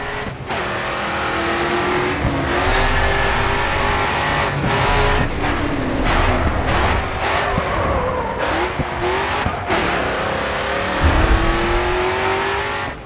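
Racing car engine in GRID 2 roaring continuously as it revs and shifts, with rushing whooshes as the car flies past roadside objects, loud and close throughout.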